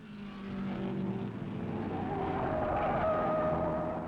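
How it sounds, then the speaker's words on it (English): 1950s Ferrari race cars, Peter Collins' number 11 among them, roar along an airport runway course at Sebring, a steady rumbling engine note building and holding, slightly distant and rough, with no talking. "Peter Collins in number 11 Ferrari winging away"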